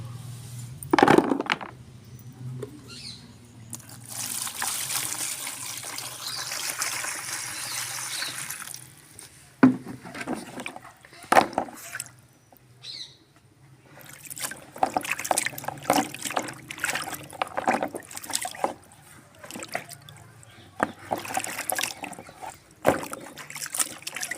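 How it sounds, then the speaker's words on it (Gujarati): Drumstick pods being rinsed by hand in water in a home kitchen, with intermittent splashing, trickling and clattering bursts, some louder close sloshes, and a steady low hum underneath. "તો સિંગો આપણે ધોઈ લઈએ।"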